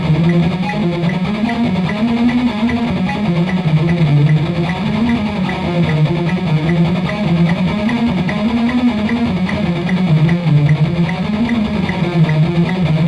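An electric guitar plays a shred metal practice line, each note double-picked in rapid sixteenths, a loud, steady, even stream of notes moving up and down in a repeating pattern.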